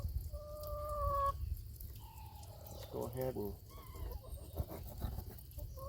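Backyard chickens cluck and call in short bursts near someone cleaning catfish outdoors, with brief speech over the bird sounds.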